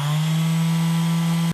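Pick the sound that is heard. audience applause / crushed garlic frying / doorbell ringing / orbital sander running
orbital sander running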